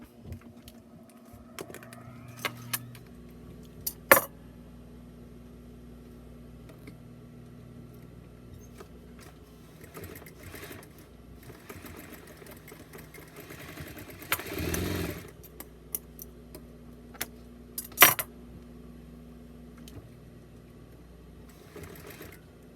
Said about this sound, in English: we're going to sew this round part and this round part together